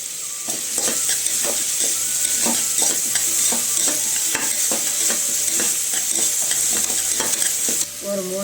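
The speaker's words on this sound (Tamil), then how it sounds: "இப்போ வெங்காயத்தை பொடியும் தக்காளியும் நல்லா வதங்கி வரட்டும்" Chopped onion and tomato with a pinch of salt sautéing in a pan for Ramadan nonbu kanji, with rhythmic spatula scrapes over a steady close sizzle throughout.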